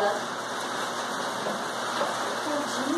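Steady rain falls outdoors, a dense, even hiss with no letup from start to end, moderately loud and close.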